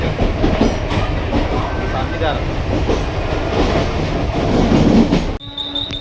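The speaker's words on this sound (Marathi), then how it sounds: "त्या ट्रेनमध्ये बसतो आम्ही आणि निघतोय चिंचपोकलीला" A Mumbai local train runs toward Chinchpokli, its carriage rumbling and clattering loudly over the rails with wheel squeals. Passengers talk over the noise before it drops abruptly to a quieter hum.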